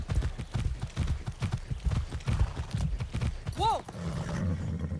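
Horse hooves clip-clop in a steady rhythmic trot in Far Cry 6, close and moderately loud, with a brief whinny partway through and a voice speaking over the hoofbeats.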